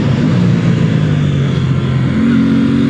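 An Aprilia RS 660 parallel-twin 659 cc motorcycle engine holds a loud, steady droning hum close by, with pitch shifting slightly up and down as it runs on a cool Italian road.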